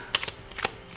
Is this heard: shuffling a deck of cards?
yes